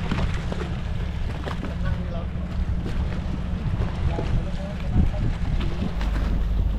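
The ferry KMP Wayangan under way in a bay on its return voyage to Ambon in Maluku, giving a steady low engine rumble with constant wind and water wash all the way through.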